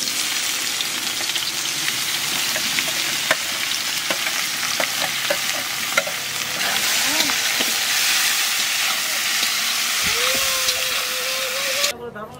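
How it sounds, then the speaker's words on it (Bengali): Onions frying in hot oil in a home kitchen: a dense, steady sizzle with occasional scraping stirs, and a brief voice speaking near the end. "পেঁয়াজ ভাজা হয়ে গেছে"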